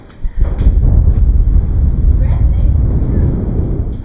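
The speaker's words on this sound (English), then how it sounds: "I can't tell you how windy it is up here." Strong wind buffets the microphone high up on a tower, a loud, continuous low roar that surges and gusts without pause, with no other sounds breaking through.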